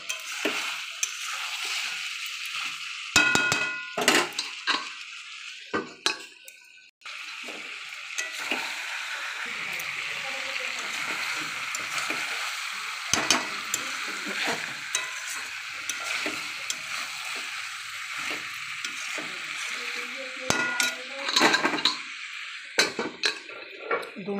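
Chicken added to a cooked-down spice mix and stirred as it fries in a pan, a continuous sizzle broken by repeated sharp clanks and scrapes of the spoon, with one brief drop-off near the middle, no talking.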